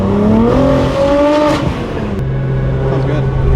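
BMW G8x M3/M4 with the S58 engine and a Valvetronic Designs HFD midpipe exhaust revving hard, a loud rising engine note climbing then dropping to a raspy steady drone, heard up close.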